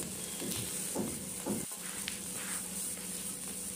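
Potatoes and peas frying with spices in a pan as they are stirred, giving a faint, continuous sizzle with a few soft scraping strokes of the spoon, alone and fairly distant.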